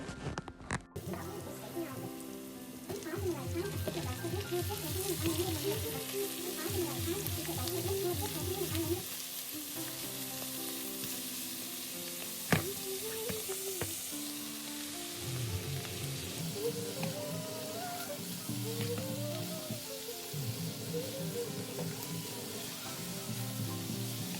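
Garlic and plenty of green chillies fry in a pan, giving a continuous close sizzle with occasional stirring while someone talks over it.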